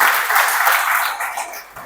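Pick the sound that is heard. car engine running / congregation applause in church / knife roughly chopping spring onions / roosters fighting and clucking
congregation applause in church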